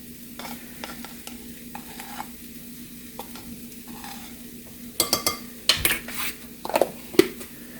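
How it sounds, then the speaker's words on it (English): Flour, salt and baking powder being whisked together in a bowl for peanut butter blondie batter, a soft scraping stir that grows into a run of quick, louder clinks and taps near the end. "So we will just whisk that together"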